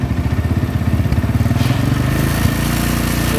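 A motorcycle engine, loud and close, starts with a pulsing chug that quickly revs up into a steadier, higher drone, with no talking.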